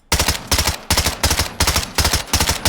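A Lachman gun fitted with a shroud is hip-fired in a video game, producing loud, close bursts of rapid automatic gunfire in a regular rhythm, about six short volleys with brief gaps between them.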